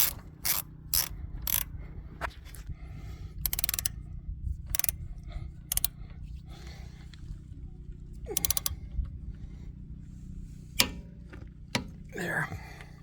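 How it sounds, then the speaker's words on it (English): An old Blackhawk click-stop torque wrench ratcheting on F150 lug nuts, short bursts of sharp metallic clicks separated by pauses, close by, with faint murmured talk in between. "with my old Blackhawk click stop torque wrench"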